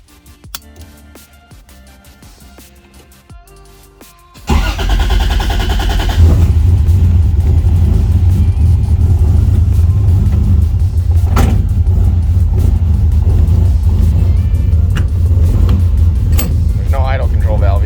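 A Toyota Supra engine without an idle control valve starts after a few seconds of quiet clatter, then settles into a loud, steady low rumble close by through the rest of the manual warm-up.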